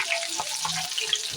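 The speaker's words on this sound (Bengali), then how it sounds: "দেখো এই কলিগুলো আমি ভেজে নেব। হালকা করে ভেজে নিলাম।" Pieces fry lightly in hot oil, giving a close, steady sizzle with soft bubbling and small crackles throughout and no voices.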